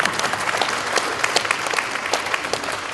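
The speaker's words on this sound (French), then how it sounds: "Je crois qu'on peut applaudir nos startups" A forum audience at the Smart Agri Forum 2019 closing session applauds the startups with dense, steady clapping that fills the room at an even, loud level, with no talk over it.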